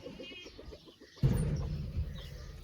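Goats bleating on a working farm where cattle and chickens are also kept, a few short wavering calls in the first second followed by louder, denser livestock noise close by.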